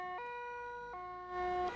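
An ambulance siren wails in steady, repeating two-tone steps, a clear mid-range tone held loud and alone throughout, with a slight swell toward the end, linked to rescue work at a ski resort.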